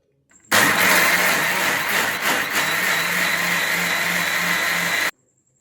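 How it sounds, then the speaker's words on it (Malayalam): Electric mixer grinder jar blending rice, coconut, sugar and yeast into batter, a loud steady whirring roar that starts abruptly, holds for about four and a half seconds with slight wavering, then cuts off sharply. "ബാക്കി അരിയും തേങ്ങയും കുറച്ച് പഞ്ചസാരയും ഈസ്റ്റും കൂടെ ചേർത്ത് ഈ പാവ് കാച്ചിയതും കൂടെ ചേർത്ത് മിക്സിയുടെ ജാറിലിട്ട് നന്നായി അരച്ചെടുക്കുക"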